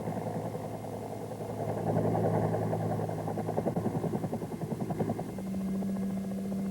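A Bell AH-1 Cobra attack helicopter's turbine engine and rotors make a steady droning whine with rhythmic blade thumping that swells midway, heard without speech.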